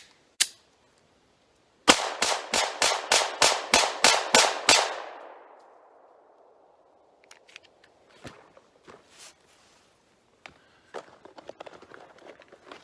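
Taurus GX4 pistol firing ten rounds outdoors: one sharp shot, a pause, then a quick even string of loud cracks that trail off into echo, followed by faint clicks and handling noises.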